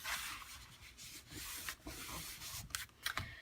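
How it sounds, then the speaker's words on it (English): Folded paper for an 8x8 beach house scrapbook album is rubbed down firmly with a burnishing tool. Close, soft, rapid rubbing strokes repeat in quick bursts, quiet and without speech. "Lining up the fold with the edge. Let's burnish it down."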